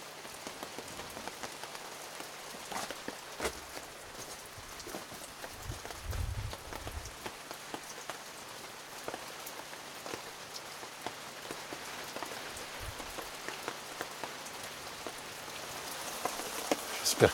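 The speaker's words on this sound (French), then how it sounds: "J'espère qu'il ne va pas pleuvoir toute la nuit." Rain patters steadily through the night on a glacier, a faint, even drizzle scattered with sharper individual drops close by.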